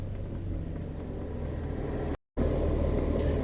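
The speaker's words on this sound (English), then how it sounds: "Then start the car." A BMW E46 3 Series car engine runs with a steady, close low rumble that cuts out for a brief moment partway through and then resumes at the same level, with no talking.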